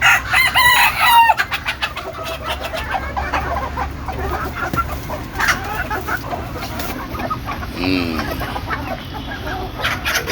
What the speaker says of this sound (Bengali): মুরগি সব ছেড়ে দিল